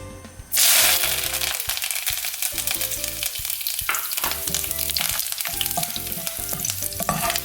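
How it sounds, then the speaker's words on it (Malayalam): Curry leaves crackle and sizzle loudly after being dropped into hot oil for a beef fry. The spitting is dense and continuous, with stirring clinks throughout and no voices. "ഇനി നമുക്ക് കുറച്ച് കറിവേപ്പില ഫ്രൈ ചെയ്തെടുക്കാം."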